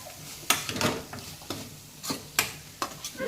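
Chana curry being stirred in a pan, a spoon scraping and clattering in irregular bursts with a soft sizzle underneath, close and moderately loud, no voices.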